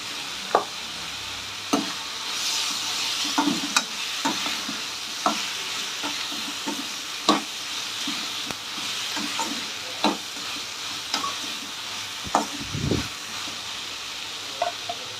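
Ginger garlic paste fries with coriander and mint in a pan while making vegetable semiya, giving a steady soft sizzle broken by repeated spatula scrapes and clinks against the pan, with no talk.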